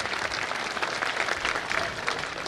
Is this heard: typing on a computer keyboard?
no